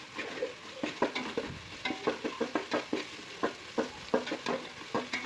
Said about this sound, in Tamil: புதினா கொத்தமல்லி போட்டு நல்லா வதக்கிக்கோங்க.